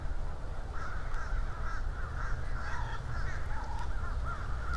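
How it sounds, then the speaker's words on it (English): Birds calling outdoors, crows cawing in repeated rough calls throughout, fairly faint over a constant low background hum. "I know the birds to some of you is going to be annoying"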